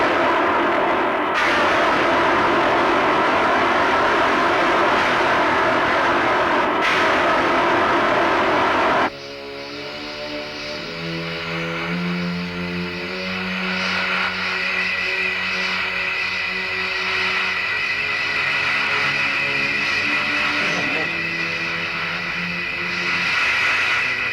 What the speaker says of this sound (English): Then Gamera shows off his most unique power, flight!